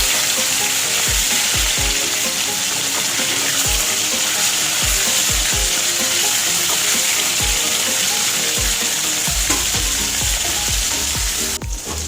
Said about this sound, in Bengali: ভালো করে লাল লাল করে ভেজে নিয়েছি